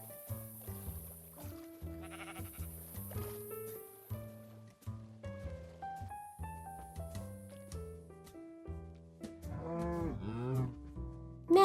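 Cows moo and sheep bleat over and over on a farm, several animals calling in overlapping long and short cries, fairly close, with a brief louder burst at the end.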